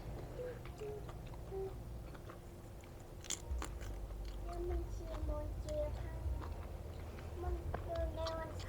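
Grilled shrimp being bitten and chewed, a close, soft crunch and wet chewing that repeats at an irregular pace, with a quiet voice and faint background sounds.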